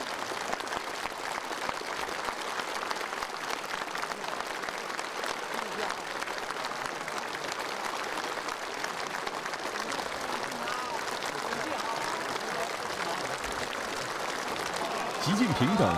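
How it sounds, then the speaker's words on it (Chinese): Long, warm, sustained applause from a large audience fills the Great Hall of the People in Beijing, a dense and even roar of clapping with a faint voice over it near the end. "全场响起长时间的热烈掌声"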